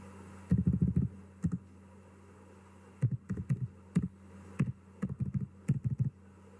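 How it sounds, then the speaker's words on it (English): Someone types a misspelled word on a computer keyboard, producing short clusters of close, dull keystrokes separated by brief pauses. "I type a wrong word."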